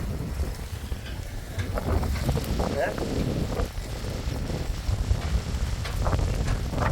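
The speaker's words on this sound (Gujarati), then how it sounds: "અને પવન બહુ છે" Strong wind blows across an open farm field where organic manure is being loaded, a steady rough buffeting roar on the microphone throughout with gusty low rumble and no pauses.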